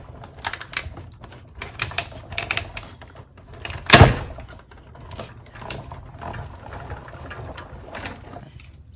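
A die-cutting machine runs shimmer vellum leaves through, producing a series of rapid clicking, clattering mechanical taps with one louder sharp clunk near the middle, close by.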